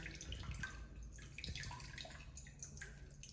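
Rinse water poured off sprouting seeds, a broad steady splashing and gurgling wash at moderate loudness with a few small drips, no talking.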